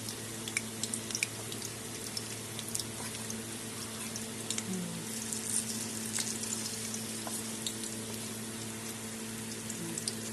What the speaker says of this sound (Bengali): এরকম করে আমি সবগুলো চাল কুমড়োর পিস ভেজে নেব।